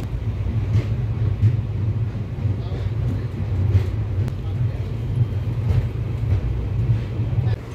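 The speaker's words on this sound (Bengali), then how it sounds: "আমাদের ট্রেন ছেড়ে দিল কোচবিহার থেকে" A passenger train pulling out of Cooch Behar station, a steady low rumble and rolling clatter from inside the carriage, continuous and fairly loud, with people talking over it.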